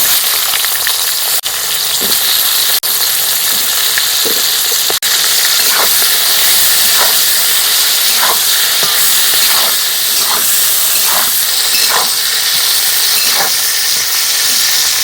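Onion quarters frying lightly in a pan with crushed black pepper for a chicken and cauliflower dish, giving a steady close sizzle and hiss throughout, dotted with faint crackles and light stirring taps.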